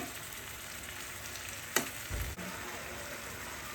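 Prawns cooking in curry in a pan give off a faint, steady sizzle, with a brief utensil knock and a soft stir partway through.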